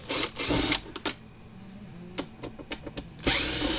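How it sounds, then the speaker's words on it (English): Screws are driven out of a Zareba SP3 solar fence charger with a power tool, heard as close, loud whirring bursts at the start and end, with short clicks and ticks in between. "we're gonna see if we can pull the screws out of this thing and see the inside"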